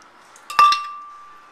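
Metal ladle clinking against a pot while scooping hot celery soup for a blender: a sharp double clink with a bright ringing tail that fades slowly, otherwise quiet kitchen.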